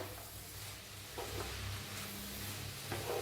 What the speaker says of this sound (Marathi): बघू शिजले का भाजी आपली मस्त झाले बघा मस्त शिजलेली आहे हलवून घेऊया